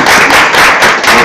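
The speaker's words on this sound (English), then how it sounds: "let's give a big applause, make a lot of noise." Short burst of loud, close clapping welcoming new employees at a school district board of trustees meeting, a few people clapping in an uneven rhythm.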